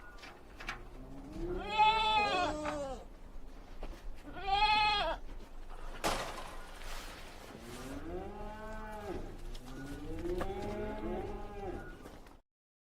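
Goat bleats, a run of loud wavering cries in short bursts with brief gaps, some overlapping like several animals calling together, close and clear with no talk.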